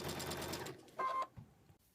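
A sewing machine stitching the last line of a Quiltsmart Liberty Crown quilt pattern, its steady motor whir running loud for under a second before stopping, followed by a short tonal beep and a soft thump.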